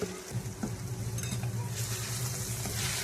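Potatoes sautéing in a pan for methi-potato bhaji, a steady close sizzle with scraping stirs and a brighter hiss building toward the end.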